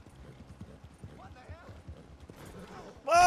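Horse hooves clip-clop in the Red Dead Redemption 2 video game, a quiet, steady rhythmic trot of soft thuds, ending in a sudden loud burst that sounds like a shout.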